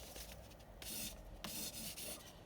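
Emery paper rubs against a diamond heart pendant in short back-and-forth strokes, a quiet close scraping that comes in several distinct bursts.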